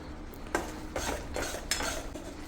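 A spoon scrapes and stirs besan ladoo mixture of gram flour in a pan over a low flame, steady close scraping with soft metallic clinks and no voices.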